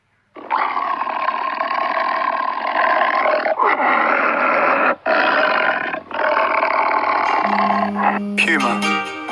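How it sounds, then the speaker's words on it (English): A tiger gives a long series of deep, rasping roars, loud and close, with only brief breaks between bursts, then a short tonal sound at the very end. "Tiger."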